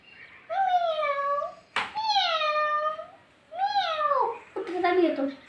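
A child imitates a cat, giving four drawn-out, wavering meows with short gaps between them, loud and close.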